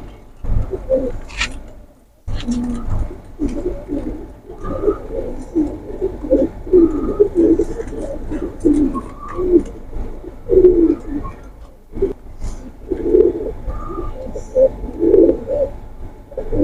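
A pair of pigeons, a banky kamager Sialkoti pigeon pair, coo steadily in a repeated rolling rhythm, close and fairly loud, with brief pauses and faint chirps above.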